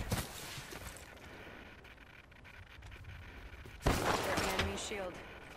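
Gunfire in a shooter video game: scattered shots and impacts amid busy game noise, with a louder burst of firing near the end.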